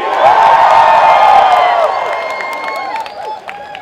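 A comic convention audience cheers and whoops loudly as one crowd, a dense roar that holds for about two seconds and then fades into scattered shouts and whistles.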